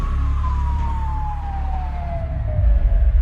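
An ambulance siren wails steadily in one long descending tone over heavy low road rumble, loud and close, with the engine noise swelling near the end.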